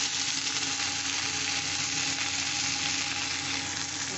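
Potatoes fry in a pan of hot oil, softening as they cook, giving a dense, even hiss of sizzling that stays loud and close throughout without pause or voices.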